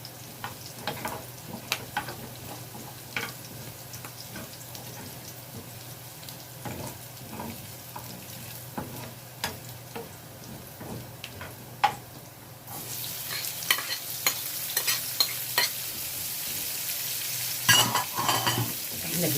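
Onion frying in a pan with a continuous sizzle and repeated scraping stirs, fairly close, growing louder and brighter midway as more onion goes in; no talk.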